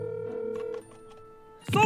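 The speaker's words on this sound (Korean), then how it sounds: "서브폰으로 걸고 있는데 안 받는데?" A phone rings briefly with a steady electronic tone, then cuts off into quiet before a voice begins speaking.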